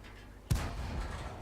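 Tank main gun firing in a video game: a single sharp, booming shot cracks out about half a second in and is followed by a long rumbling decay, fairly faint overall.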